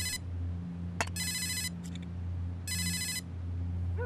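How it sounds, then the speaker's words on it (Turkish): A mobile phone ringtone rings in a room during a TV drama scene, sounding in repeated electronic bursts over a low steady hum, with no talking. "Bu kimin telefonu çalıp duruyor?"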